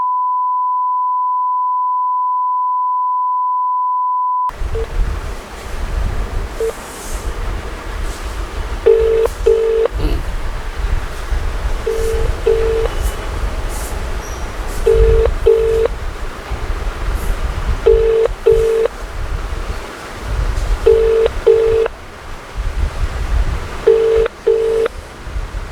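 A telephone call being placed: a long steady tone, then repeated paired ringback beeps at regular intervals over faint background noise, with no one answering or speaking.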